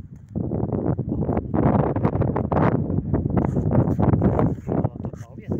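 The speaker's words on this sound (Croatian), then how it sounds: "Ovo to kao vjetar, znači, hladnjika vjetar." Cold wind on Kosmač mountain in late February: a strong, gusty roar buffets the microphone, swelling and easing for several seconds without pause.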